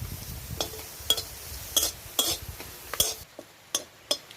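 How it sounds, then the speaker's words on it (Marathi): Garlic cloves and onion roast together in a pan, with a low sizzle under a series of sharp metallic scrapes and clinks from stirring, spaced roughly every half second, close and fairly loud. "आता ह्या लसणाच्या एक वीस पंचवीस पाकळ्या आहेत त्या पण आपण भाजून घेणार आहोत कांद्याबरोबरच भाजायच्यात त्या"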